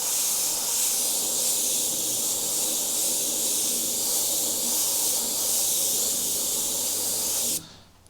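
An airbrush sprays scarlet paint onto a meteor artwork with a steady, close, bright hiss that runs unbroken for several seconds before cutting off sharply at the end.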